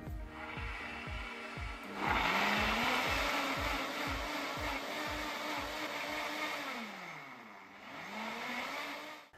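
A kitchen blender whirs loudly as it purees chili sauce with vinegar and olive oil, starting after a rhythmic low chugging, its motor pitch dipping and rising again near the end.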